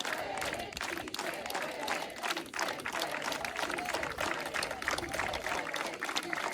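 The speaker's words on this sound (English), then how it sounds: "let's do it with a unified clap" Press conference crowd claps in unison, steady rhythmic beats that carry on throughout alongside voices.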